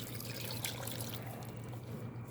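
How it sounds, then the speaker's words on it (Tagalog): Water pours and trickles steadily into a pan of milkfish, a soft continuous liquid flow with a low background hum. "tapos lalagyan natin ng tubig."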